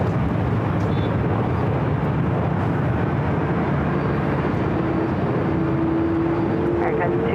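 Heavy airliner taking off from runway 24 left at LAX, a loud constant roar of jet engines filling the air, with a faint radio voice heard under the noise.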